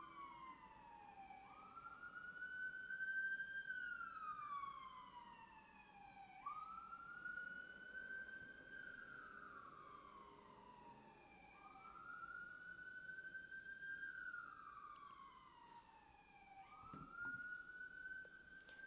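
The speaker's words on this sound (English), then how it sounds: "What is with these sirens today?" Distant emergency vehicle sirens wail outside in slow rising and falling sweeps, repeating steadily and faintly for the whole stretch.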